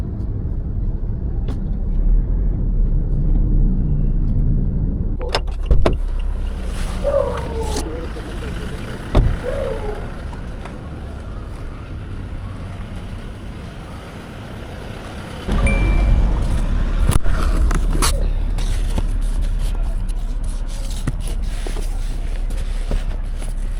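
Car interior in heavy traffic on a boulevard: low engine and road rumble, passing vehicles and occasional brake hiss, with people talking throughout.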